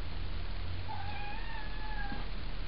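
A cat meows once in a drawn-out, wavering cry lasting over a second, fairly faint against a steady background hiss and low hum, with no talking.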